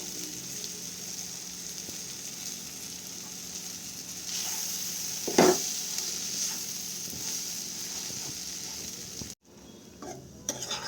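Oats being stirred into vegetables in a frying pan over a low gas flame, with a steady sizzle, one sharp scrape of the utensil midway, and a sudden drop near the end.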